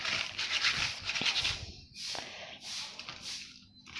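Cream being mixed by hand to make butter, giving soft wet squishing and rubbing strokes that come in irregular bursts with brief pauses, close and quiet.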